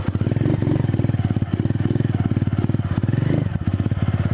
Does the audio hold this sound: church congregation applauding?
no